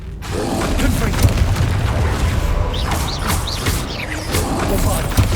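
Rumbling blasts and crashing impacts from the Confringo fire spell in the video game Hogwarts Legacy, with mechanical clatter and debris over a dense, continuous battle din.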